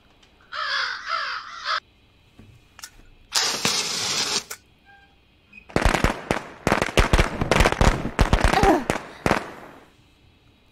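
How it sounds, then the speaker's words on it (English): Fireworks going off in the video game Sense: A Cyberpunk Ghost Story, a dense run of sharp bursts and crackling pops in quick irregular succession, loud and close, after earlier separate whooshing blasts and brief cawing tones. "More fireworks."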